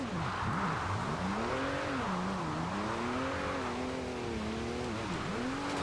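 Porsche 911 GT2 RS drift build sliding sideways in Forza Horizon 2, the engine droning and wavering in pitch as the throttle varies, steady and loud with tire noise throughout.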